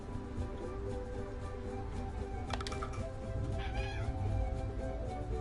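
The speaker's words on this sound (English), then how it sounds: "My cat's meowing back and shit." A cat meows a few times amid game music and background noise, the short calls rising briefly over the steady mix.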